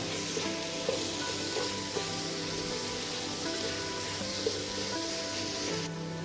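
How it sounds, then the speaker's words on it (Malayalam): Sliced onions frying with salt in oil for a chicken roast, a soft continuous sizzle with faint occasional clicks of stirring, steady and close, no talking. "സവോള പെട്ടെന്ന് ആ ഒരു ബ്രൗണിഷ് ആവാൻ വേണ്ടിട്ട് കുറച്ച് ഉപ്പ് ഇട്ട് കൊടുക്കണം"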